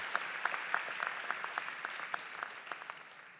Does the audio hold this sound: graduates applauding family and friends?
yes